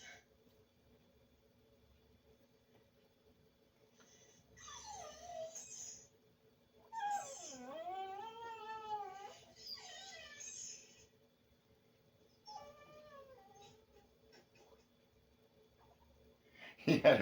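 A dog whines in drawn-out, wavering high cries, several separate bursts with quiet gaps between them, close and clear over a low background hum.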